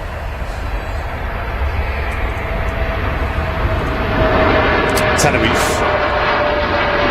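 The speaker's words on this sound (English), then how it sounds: "Now rolling with Dreamliner." A Boeing Dreamliner jet rolls for takeoff at Manchester Airport, its engines building into a loud, broad roar that swells toward the end while a voice talks over it.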